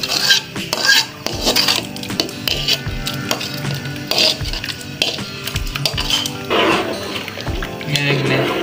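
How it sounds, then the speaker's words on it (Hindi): Utensil scraping and clanking in a pot while masala is stirred into pieces of fish, steady metallic stirring knocks throughout, with a voice talking over the cooking at times. "ये देखिए अभी मसाला डाला है मैंने और इसे अभी मिक्स कर रहा हूँ"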